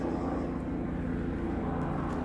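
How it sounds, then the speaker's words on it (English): A helicopter passes overhead above an island nature reserve, a steady loud engine drone holding throughout without change. "There's a helicopter"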